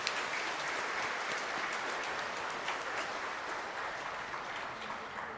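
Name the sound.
congregation applauding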